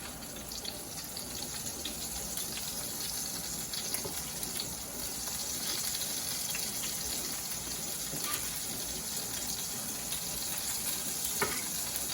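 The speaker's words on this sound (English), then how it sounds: "So we're going to fry up these scallops." Scallops fry in a hot pan, a steady dense sizzle that continues evenly throughout, close and moderately quiet with no talking.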